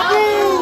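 A crowd at a gathering for a tree, cheering and shouting together in one loud sustained burst of voices, close and brief.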